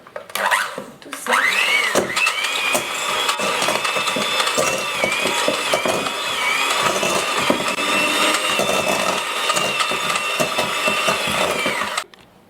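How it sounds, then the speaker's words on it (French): An electric mixer whirs steadily as it blends butter in a salad bowl for a galette des rois, starting after a brief pause and running loud and continuous until it cuts off abruptly near the end. "puis y mettre le beurre. Nous allons mixer"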